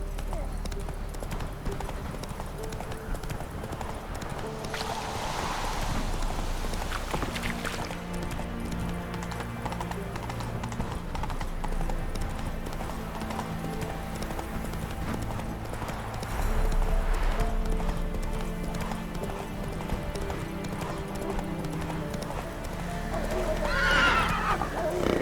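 A horse in The Witcher 3 gallops with steady, continuous clip-clop hoofbeats, and a couple of whinnies rise out of the hooves, all set against game ambience and music.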